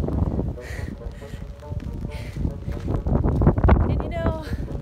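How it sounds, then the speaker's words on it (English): Strong wind roars on a hiking trail during a downpour, a steady low rumble buffeting the microphone throughout, with a voice faintly underneath. "It's super windy."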